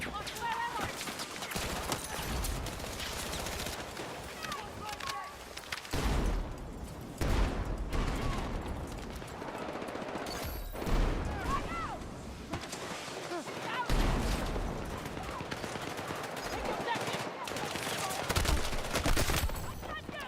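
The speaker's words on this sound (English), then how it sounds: "I was just shooting through somebody." Gunfire in Battlefield 6: rapid automatic bursts and scattered shots, some near and loud, others distant, recurring throughout alongside game noise.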